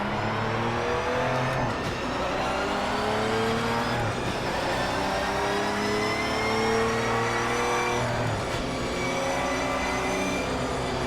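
Race car engine in the racing game Project Motor Racing, a loud sustained roar that climbs and drops through gear changes, with rising whines and shifts around every couple of seconds, steady and close with no talk.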